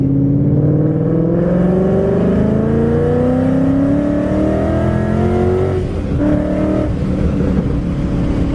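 A powerful Ford Mustang BOSS 302 engine revs up loudly, its pitch rising steadily before a brief shift and another climb, sustained and close.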